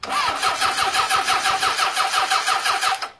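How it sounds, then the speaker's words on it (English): A car engine cranks over on its starter motor with the spark plugs refitted, fed straight from the starter, giving a steady, loud, rhythmic whirring churn of about a dozen even compression pulses for three seconds before cutting off. "I just want to see if it cranks now"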